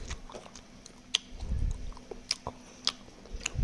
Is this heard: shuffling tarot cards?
no